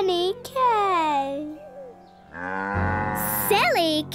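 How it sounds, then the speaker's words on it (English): A cartoon cow gives a couple of long, loud, drawn-out moos with swooping pitch, alongside brief spoken lines and a short squeaky sound near the end. "Shall we show the cow, Willy?"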